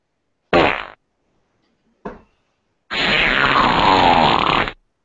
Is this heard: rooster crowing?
no